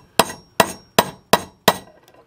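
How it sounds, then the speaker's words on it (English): Five sharp metallic hammer strikes on a bushing driver, seating a bushing into a 727 automatic transmission pump body, evenly spaced about a third of a second apart, close and loud with quick ringing decay. "Take the bushing driver that goes in there, and you go down there so it just goes past"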